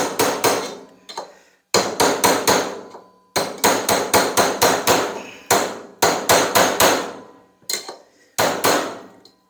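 Hammer blows tap a John Deere pulley flat while it is clamped to a workbench, coming in quick bursts of four to six sharp metallic strikes separated by short pauses. The hits are close and loud, with no voices.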